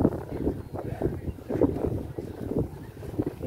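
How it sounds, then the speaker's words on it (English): Wind gusts around the harbour below the abbey ruins at Whitby, a soft, uneven rumble of buffeting at the microphone that rises and falls in irregular pulses, fairly quiet and close. "Windy as well in here."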